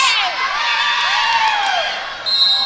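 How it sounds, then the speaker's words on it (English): A small, enthusiastic crowd at a girls' basketball game in a gym cheers and whoops loudly for the whole stretch, with high shouts layered over a lively roar. "Even a small crowd, if it's enthusiastic, sounds fun and lively."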